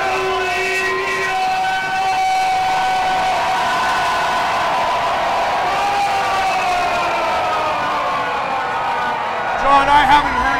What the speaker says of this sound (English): I haven't heard an ovation for anybody the way I'm hearing this ovation from a sold-out crowd here for Seleziya Sparx